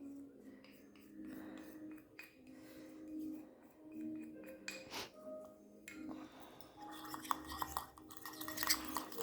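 Hyaluronic acid powder and other skincare ingredients stirred vigorously in a glass container make faint clinks, taps and scraping rubs in an irregular rhythm, growing busier toward the end, with occasional quiet speech.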